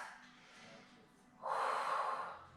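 A deep inhale and exhale during a yoga stretch with a ball prop: a soft airy breath, then a louder, fuller rush of air that holds for about a second before easing off.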